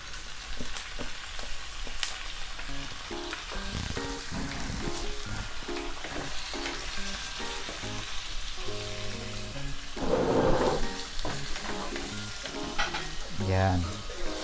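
Marinated pork spareribs fry in a pan for humba, a steady crackling sizzle with bursts of louder spattering and scraping as the meat is stirred, with no talking.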